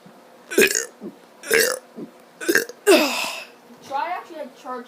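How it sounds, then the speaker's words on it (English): A kid lets out a series of loud, drawn-out burps, four or five separate belches with short gaps, the last one longer and rumbling, close to the microphone. "Try actually like charge up your burp."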